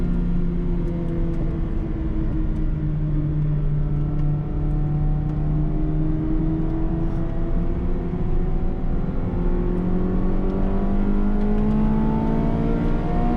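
Honda Civic race cars, including an EK4 Civic alongside a Focus ST, accelerate together at Silverstone after a pace-car restart, engines droning loud and close with rising whining revs that climb steadily through gear changes.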